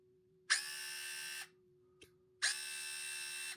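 Fantik battery-powered screwdriver motor whirring in two short high-pitched bursts of about a second each, separated by a brief pause and a small click, close and clear in a quiet room.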